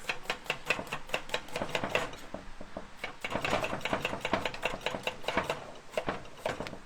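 A knife chops vegetables on a board in a steady series of sharp, close, rhythmic knocks, a short pause, then a faster run of cuts.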